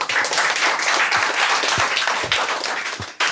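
Students in a class clap together in a dense, close burst of many hands that continues for about three seconds before tapering off abruptly.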